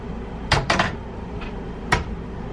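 In a Disney Contemporary Resort hotel room, a mini fridge and drawers are opened, giving several quick knocks and clunks close by, two in a row near the start and one more later, with no talk.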